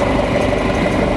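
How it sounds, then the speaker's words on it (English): A John Deere 3010 tractor engine runs steadily at a farm equipment sale, a continuous low idling rumble with mechanical vibration that stays loud and even throughout. "3010, yep, 3010 John Deere right there."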